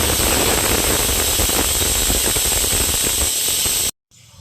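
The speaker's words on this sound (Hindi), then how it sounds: "तो कुकर में हो रही है सीटी" A pressure cooker steaming momos lets out a loud, steady hiss of escaping steam. It runs unbroken for about four seconds, then cuts off abruptly.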